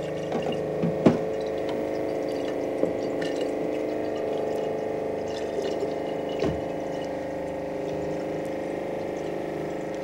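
Tap water runs steadily ahead of a Camelot water filter, a continuous rushing flow with a few faint knocks and clicks throughout.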